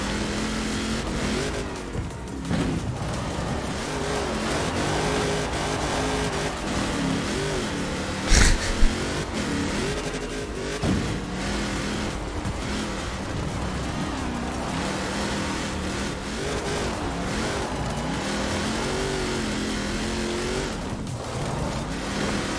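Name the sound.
car engine revving in Forza Horizon 4 video game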